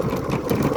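An NS motorbike engine idles in neutral on a rough off-road mountain track, a brief, steady close-up chugging.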